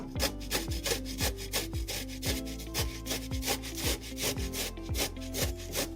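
Beetroot is grated on a hand grater in fast, steady, rhythmic strokes. The scraping rasp is loud and close and continues without a break, with no voices.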